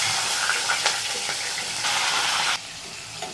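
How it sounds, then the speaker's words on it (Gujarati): Potato pieces drop into hot oil seasoned with cumin, bay leaf, asafoetida and turmeric, sizzling steadily up close with faint stirring scrapes and no talking. "હવે એમાં આપણે આ બટેટા જે પીસ કર્યા છે ને એ એડ કરી દઈશું"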